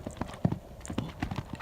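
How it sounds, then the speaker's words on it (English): Rhythmic clip-clop of a young event horse's hooves during an early jump schooling session, repeated quiet footfalls at a steady canter pace, moderately distant. "This is one of Petey's first jump schools"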